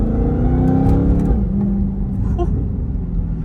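A tuned Dodge Challenger Redeye idles and creeps through traffic, its supercharger whine rising and sliding as the engine revs briefly, all under a loud, close rumble from the cabin.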